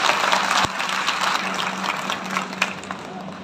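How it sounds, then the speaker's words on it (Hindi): Audience at a political public gathering applauding a successful event, a loud sustained round of clapping that gradually thins, with a low hum underneath. "सबकी तालियां एक बार बजनी चाहिए"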